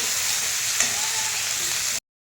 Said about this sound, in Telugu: ఇవి కొంచెం నార్మల్గా వేగాలండి.